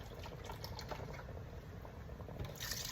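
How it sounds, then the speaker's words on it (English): Chicken broth pours into a pot for Jamaican curry chicken, a soft, continuous liquid splash and gurgle heard close and fairly quiet, brightening slightly near the end. "And we're going to add our chicken broth."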